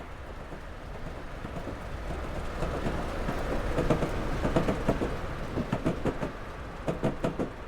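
Train wheels clack rhythmically over rail joints in the Train Simulator Classic game on the West Highlands line from Fort William to Mallaig, a steady rolling rumble with repeated clicking beats growing more distinct toward the end.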